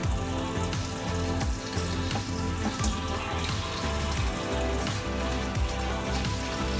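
Water rushing steadily through a siphon hose from an aquascape aquarium into a large bucket, a loud, continuous gushing and splashing close by, with no voices.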